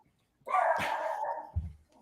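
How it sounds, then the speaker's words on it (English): A single dog barks loudly and close by, one drawn-out bark followed by a short lower yelp, with no talking over it. "Someone's dogs are out."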